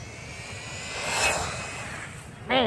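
WLToys A959 RC car fitted with a B wheel mod racing at full speed, a thin high electric whine rising and falling as it passes, followed by a brief voice at the end.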